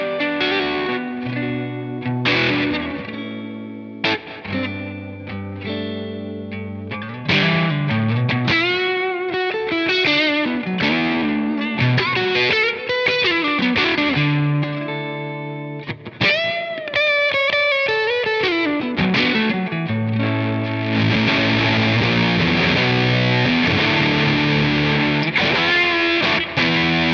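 An electric guitar runs through Catalinbread StarCrash Fuzz and SideArm Overdrive pedals, playing loud, gritty distorted riffs and sustained bends with held chords and short pauses, with no voices.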